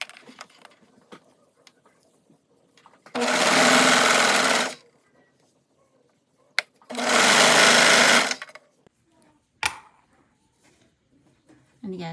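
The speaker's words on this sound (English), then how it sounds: "we're going to feed it through the serger" A serger sewing machine stitches cashmere glove pieces in two sustained bursts of a few seconds each, loud and steady, with quiet handling noises and pauses between.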